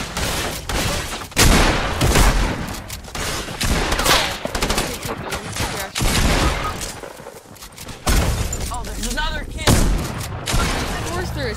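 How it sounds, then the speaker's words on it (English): Dense, sustained gunfire in a Fortnite Zone Wars match, with bursts of rapid shots and heavy impacts packed together over several seconds, loud and chaotic, with players talking over it. "He's shooting you."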